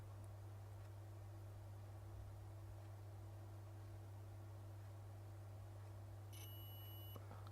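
A multimeter in continuity mode beeps while probing a filter on an iPhone 6s logic board, a steady high electronic tone holding throughout over a constant low mains hum, with a brief extra high tone near the end.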